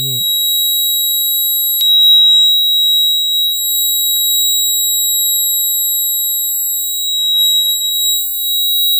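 A homemade flood warning alarm, triggered when water touches two bare wire ends, gives a steady high-pitched electronic buzz that runs unbroken from start to finish at a constant level.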